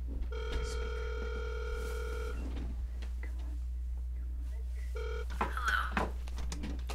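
A telephone ringing over speakerphone, heard as repeated electronic ring tones over a steady low hum, quiet and slightly distant, with faint voices between rings.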